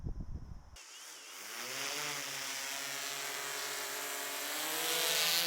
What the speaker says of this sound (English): and the drone will take off.